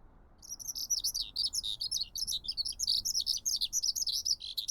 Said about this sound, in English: Wow, they were twittering so much.